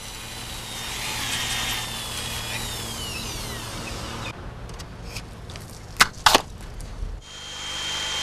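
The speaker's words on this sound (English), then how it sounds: "Ducts for supply lines can easily be made with a milling machine" A milling machine cuts supply-line ducts into an insulated wall of a modular building, a steady whining grind for several seconds, then stopping, followed by a few sharp knocks and brief clatter.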